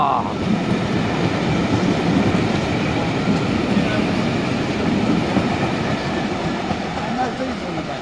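The Merchant Navy steam locomotive Clan Line rumbles past as a loud, continuous roar of wheels and rolling stock, with rhythmic clatter running steadily throughout.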